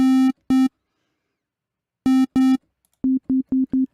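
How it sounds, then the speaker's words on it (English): Synthesizer oscillators, a sine wave layered with a second waveform, sound in short loud tone bursts: two pairs of sustained beeps separated by silence, then a quick run of six shorter pulses, clean and electronic with no talking. "let's get a sine wave, and let's hear them both together."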